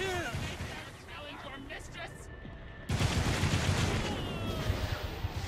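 Gunfire in the video game Gat Out of Hell: rapid bursts of shots and explosions that swell into a loud, dense barrage in the second half, with a voice talking over the first part.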